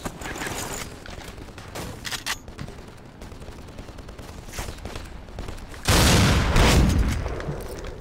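Shotgun fire in the video game Black, scattered loud blasts and mechanical clatter building to a heavy, sustained booming burst near the end.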